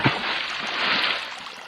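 A splash sound effect, a single broad watery rush that swells and fades over about two seconds, close and fairly loud.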